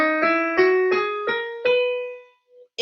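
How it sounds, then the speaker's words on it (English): A piano plays a major scale as a series of clear, separate notes struck one after another at an even pace. The last note rings out and fades, with no talking. "The major sounds like this."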